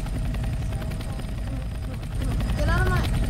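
Helicopter in the Roblox game Redwood Prison, a loud continuous rotor whir filling the scene throughout with faint tonal game sounds near the end.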